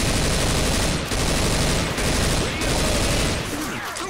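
Gunfire in the zombie shooter Left 4 Dead: loud, dense automatic fire sustained throughout with brief gaps, close and dominant before trailing off at the end.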